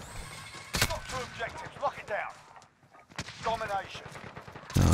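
Call of Duty: Vanguard multiplayer gunfire: sharp, loud shots burst out early and again near the end, with someone talking between them.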